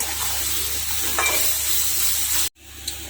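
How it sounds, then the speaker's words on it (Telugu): Onions fry in a pan with turmeric and chili powder, a steady close sizzle with stirring scrapes throughout, then a brief drop before the frying noise resumes. "ఇప్పుడు మొత్తం అంతా ఒకసారి కలిపేద్దాం"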